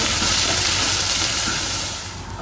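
Mustard seeds, urad dal, fennel and curry leaves spluttering in hot oil for tempering: a loud, steady, dense sizzle and crackle that thins slightly toward the end.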